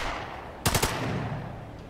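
Gunfire in The Lamplighters League video game, a quick burst of three or four loud shots over a steady background rumble.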